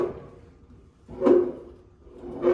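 Door of a 1970s Ford truck being swung closed, with two fairly close, hollow thumps roughly a second apart and little else around them.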